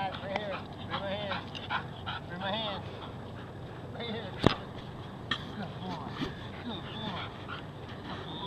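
A dog excitedly yips and whimpers during a game of fetch while a person talks and calls to it, with one sharp slap-like bang midway through.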